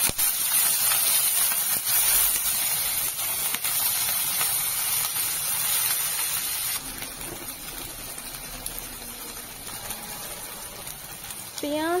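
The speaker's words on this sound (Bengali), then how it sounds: "এরপরে দিয়ে দিচ্ছি ক্যাপসিকাম কুচি, টমেটো কুচি দিয়ে এদিক ওদিক নেড়ে চেড়ে নেব ভালো করে" Chopped onion, capsicum and tomato sizzle in a hot pan while being stirred, a loud steady hissing spray that drops to a quieter sizzle partway through, with a few scraping clicks.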